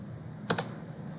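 A computer keyboard's Escape key is pressed, giving two quick, close clicks over a faint steady background hum.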